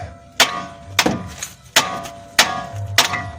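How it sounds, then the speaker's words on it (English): A small hammer taps on the loose upper control arm of a 2000-2005 Chevrolet Trailblazer front suspension: five sharp metallic strikes, evenly spaced about half a second apart, close and alone. "And you just take a little hammer and just"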